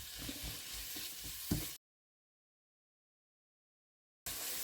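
Chopped tomato sautéing in a pan for an ash gourd coconut curry: a close sizzle with a few stirring knocks, cut off by a stretch of total silence before the sizzle returns.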